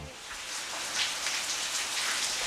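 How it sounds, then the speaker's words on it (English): Steady rain falling outside during Florida weather, a continuous even hiss of drops on surfaces, moderately loud and unbroken with no voices. "you probably hear the rain in the background"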